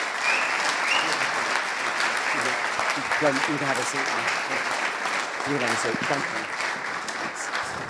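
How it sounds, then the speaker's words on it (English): Steady audience applause for the evening's speakers fills the room, a continuous crowd clapping while someone talks over it near the microphone. "give all of our speakers tonight a round of applause"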